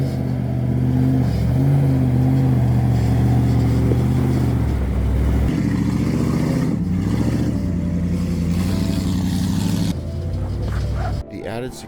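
First-gen Toyota Sequoia with a swapped second-gen Tundra 9-inch front differential drives along, engine droning and revving through gear changes, with a dog barking and people talking over the steady close motor noise.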